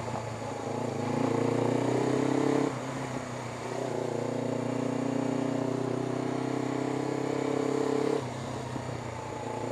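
A motorcycle rides along a narrow country lane, its engine a steady, close drone that eases off and picks up again as it moves along, heard alone with no talking.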